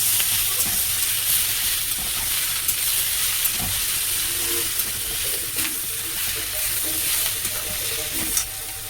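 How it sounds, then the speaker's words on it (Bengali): Chopped tomatoes are stirred and fried in a pan with salt, a constant close hissing sizzle broken by a few light clinks from the stirring. "টমেটো কুচিয়ে দিচ্ছি। নেড়ে নেবো"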